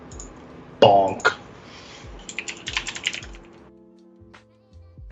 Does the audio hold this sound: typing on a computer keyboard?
yes